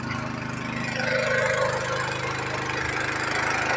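A small engine drives a water pump draining a canal in front of a weir while catfish are caught. It makes a steady, close, continuous mechanical drone that holds throughout.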